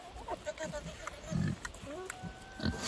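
Pigs on a small farm grunting and oinking in short irregular bursts at close range, with some background noise between calls.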